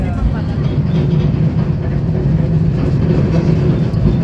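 A steady low rumble of a rope-hauled funicular train in motion, continuous and fairly loud, with a constant mechanical drone throughout.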